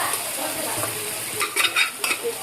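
Tadka tempering spits and sizzles in a hot pan, a steady crackle with a few sharper bursts of stirring near the end, close and fairly loud.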